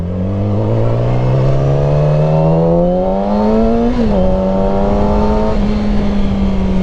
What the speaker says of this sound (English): I figured I might as well record this if I'm just taking April's bike out casually, right?